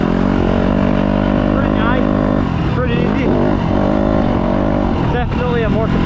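A Yamaha YZ250F motocross bike engine, a four-stroke 250, runs loud and steady with rising and falling revs as it is ridden, while a voice talks over it throughout.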